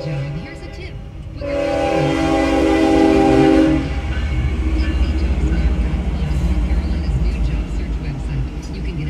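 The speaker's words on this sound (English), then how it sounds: "It's a maintenance train." A Norfolk Southern maintenance train rolls through Cary, North Carolina, with a loud horn blast early on, then a steady close rumble of wheels and rail cars that continues to the end.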